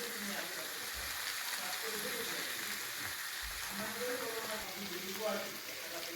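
Ground spices with potato and brinjal fry in a pan for a thin tangra fish curry, making a soft, even sizzle throughout with faint background voice-like sounds and occasional low thumps.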